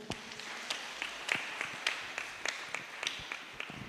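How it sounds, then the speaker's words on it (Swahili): A church congregation at a Kikuyu service claps for the pastor, a sparse and uneven patter of individual hand claps with a soft murmur of room noise behind. "Tumpigie mchungaji makofi mazuri."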